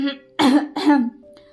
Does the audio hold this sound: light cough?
yes